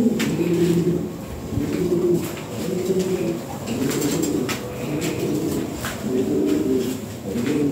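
Imported-bloodline pigeons coo in repeated low rolling phrases, close and fairly loud, with faint clicks and rustles from the loft around them.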